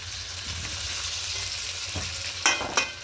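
Chicken and tomatoes sizzle in a pan over a medium gas flame, a steady frying hiss broken by a few scraping stirs and knocks of a spoon near the end, without talk.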